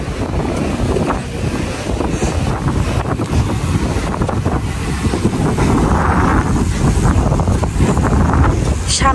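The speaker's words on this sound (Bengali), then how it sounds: "সামনে বিচ তো, তাই এত বাতাস।" Strong wind at Jomtien Beach in Pattaya roars steadily against the microphone in a loud, continuous buffeting rush, with faint beach and boat ambience underneath and no clear talk.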